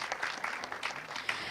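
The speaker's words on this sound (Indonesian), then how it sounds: "Mungkin berikan tepuk tangan sekali lagi untuk seluruh panelis." Quiet clapping comes from a seminar audience thanking a panel on carbon pricing, a steady patter of hands heard at a distance.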